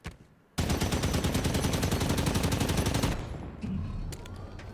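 A loud, sustained burst of rapid machine gun fire from the Scorpion tank in Halo 5, lasting about two and a half seconds, then dropping to quieter rumbling and scattered sounds.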